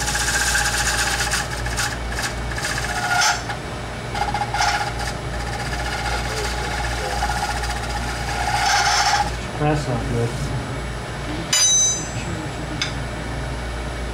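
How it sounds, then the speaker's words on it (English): A wood-turning tool chatters against a wooden platter spinning on a lathe during a shear scrape. A steady motor hum runs under a high, rasping vibration that comes and goes in bursts, and a voice speaks briefly. "It's a chatter on the wood."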